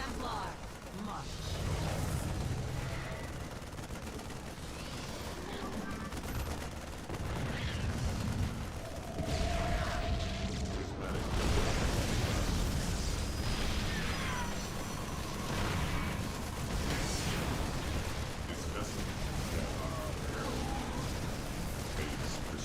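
Glaive cannon fire and explosions in a real-time strategy video game battle, a dense continuous barrage of booms and blasts mixed with game voice lines and background noise.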